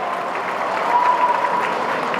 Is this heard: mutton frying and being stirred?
no